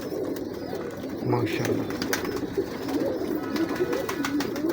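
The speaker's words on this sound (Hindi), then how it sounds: "ये अब ओरिजिनल उस्ताद सखी भट्टी साहब के घर से आए हुए कबूतर हैं" Breeder pigeons from a fancier's loft coo softly amid a steady murmur of birds, with a voice briefly speaking over them near the microphone.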